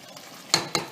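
A spoon turns through a pot of Jamaican-style oxtail stew in two separate strokes, each a short, fairly loud scraping swish over a quiet kitchen background.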